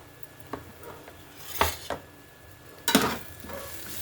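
Stirring chicken with coriander powder and masala powder in a pan, with a few scraping, clinking spoon strokes against the metal and light sizzling, spaced out and fairly faint.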